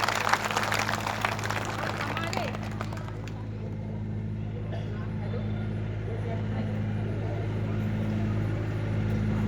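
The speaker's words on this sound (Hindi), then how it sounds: "तो आप लोगों के लिए जोरदार तालियां बजनी चाहिए इस बात पे।" A rally crowd bursts into loud applause for a few seconds, then the clapping dies away into scattered crowd murmur over a constant low electrical hum.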